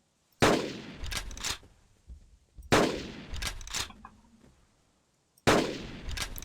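SPAS-12 shotgun firing in the game Carnivores Triplex: three loud, close blasts spaced a couple of seconds apart, each followed by a short metallic pump-action clatter and decaying echo.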